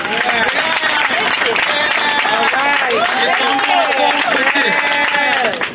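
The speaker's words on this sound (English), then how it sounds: "So let's give him another round of applause." Crowd applause and cheering at an outdoor street re-naming ceremony honoring a retired fire chief, steady and loud throughout, with voices calling out over the clapping.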